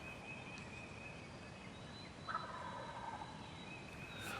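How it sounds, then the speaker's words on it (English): Wild turkeys gobble from distant timber just after daylight during a Missouri spring hunt, faint rattling calls rising over quiet morning ambience, one call clearer near the middle. "soon they had gobbling birds calling from the timber across from them"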